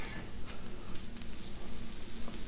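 Butter and oil sizzle on a hot Blackstone griddle with a steady, close crackle of frying and fine popping that carries on throughout without talking.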